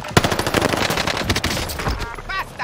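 Rapid automatic gunfire in Call of Duty Warzone on the Caldera map, sustained bursts of close, loud shots with sharp cracks and overlapping impacts, in a game battle.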